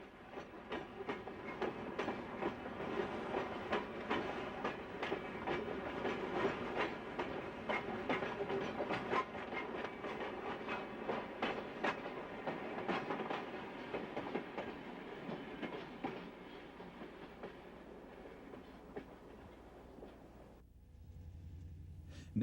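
Freight train KD-12 on the Wabash Railway hauling a string of St. Louis Car Company subway cars, rolling past with steady rhythmic wheel clatter that fades away near the end.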